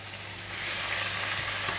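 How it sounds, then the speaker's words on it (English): Cut tofu stir-frying with ginger and onion in a hot pan, a steady close sizzle that swells louder partway through and holds, with no voices. "Stir fry until ginger and onion become aromatic and soft."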